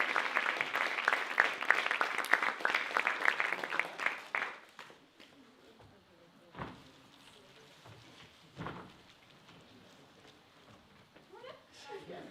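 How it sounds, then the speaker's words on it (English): Applause from the audience at a hackathon cinema show in Lausanne, a burst of clapping that is fairly quiet and dies away after about four seconds, leaving a hushed room with a few faint thumps and murmurs. "Huge round of applause for Team Adam"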